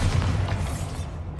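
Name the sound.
Bombarda blasting spell explosion in the Hogwarts Legacy video game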